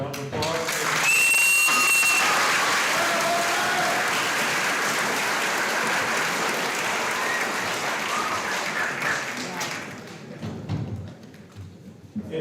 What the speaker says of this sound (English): If we could please give Mr. Herman a round of applause.